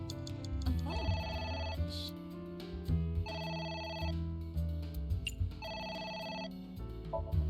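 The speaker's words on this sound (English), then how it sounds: "A phone." Telephone ringing inside a video game, three repeated electronic ring bursts with short pauses between, set among other game sounds and faint clicks.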